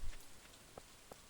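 Rain falling on a farm in the Stardew Valley video game, a steady soft hiss with a couple of brief droplet taps, heard alone.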